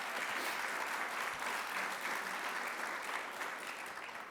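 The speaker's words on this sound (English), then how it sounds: "You can clap, yes." An audience at a New York business breakfast with a university chancellor applauds with steady, dense clapping that tapers off slightly toward the end.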